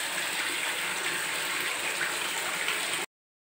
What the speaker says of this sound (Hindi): ये बाथरूम में पानी खुला हुआ है